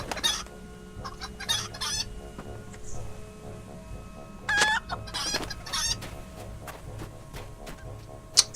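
Several chickens in a video game, The Lord of the Rings Online, cluck in short scattered bursts, with gaps of quiet between them and a faint steady hum underneath.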